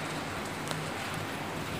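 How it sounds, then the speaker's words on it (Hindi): Rain falling over the city of Rajsamand, a steady, faint, even hiss with no voices over it. "राजसमंद शहर में बारिश हो रही थी"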